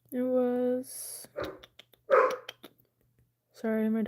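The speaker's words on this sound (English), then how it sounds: "Sorry, my dog's barking." A pet dog barks indoors in a few loud bursts, with a person speaking between the barks.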